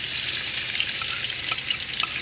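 Chicken and pumpkin curry sautéing steadily in a hot pan, a continuous dense sizzle with a few faint clicks of a stirring spoon, close and fairly loud throughout.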